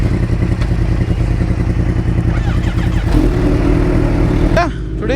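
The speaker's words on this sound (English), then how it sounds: "I'll get to hear its exhaust from a third person perspective." A Kawasaki H2 motorcycle revs its exhaust nearby, a loud continuous engine roar with rising and falling pitch sweeps, ridden by someone else and heard from the side.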